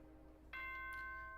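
A ding-dong announcement chime from the Danganronpa 2 video game sounds once, clear and ringing, over a low steady hum. The chime starts halfway through and its tones sustain as they fade.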